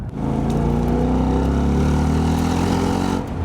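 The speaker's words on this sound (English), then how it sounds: "the 431 horsepower American Ford Mustang V8, which is designed to look as leery as it sounds" A 431 horsepower 2016 Ford Mustang V8 rumbles loudly and up close, with a deep, sustained throaty roar that swells slightly before easing off at the end.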